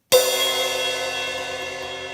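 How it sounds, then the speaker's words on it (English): A crash cymbal on a drum kit is struck once, giving a bright, loud wash that rings out and slowly fades over two seconds. "And then this is the crash cymbal, sounds like this."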